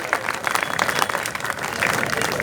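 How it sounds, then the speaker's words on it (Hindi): Audience applause at a student sit-in protest rally at Aligarh Muslim University, welcoming guests to the stage: dense, steady clapping from a large crowd, sustained throughout. "मैं तालियों के साथ उनका स्वागत करना चाहता हूं, आजम मीर साहब"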